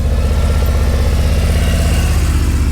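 Motorcycle engine running steadily at low speed during a slow riding maneuver, a continuous loud low rumble with a pulsing idle-like rhythm throughout, no talking.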